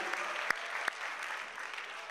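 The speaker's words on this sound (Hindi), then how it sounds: "मक्ता सुनकर आपने कैसी ताली बजाई है" Applause from a mushaira audience at a poetry gathering, faint steady clapping from a crowd with two sharp louder claps standing out near the start.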